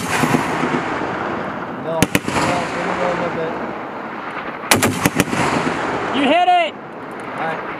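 An M2 Browning machine gun fired at targets by National Guard soldiers on a range: two loud, rapid bursts of heavy gunfire with echoing reports, and people talking in between and after.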